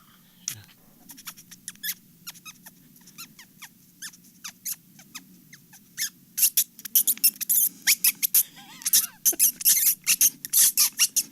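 A voice imitates a rat squealing in pain, producing rapid high-pitched squeaks that grow louder and more frantic, with no talking.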